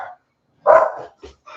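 Indoors, a dog barks at the door in reaction to a knock on cardboard: a brief yip, then one loud close bark, followed by two shorter quieter barks in quick succession.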